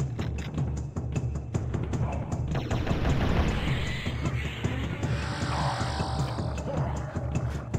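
Rapid repeated bursts of a plasma rifle fire in the Turok video game, set in a jungle level, forming a loud, continuous volley of sharp shots over a rumbling low backdrop.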